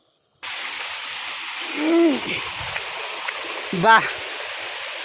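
Benarai Waterfalls at Seethampeta send out a steady, soft rush of flowing water, with a person speaking and calling out twice over it.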